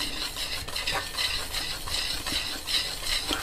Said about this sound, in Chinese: 然后用筷子把它稍微搅拌一下。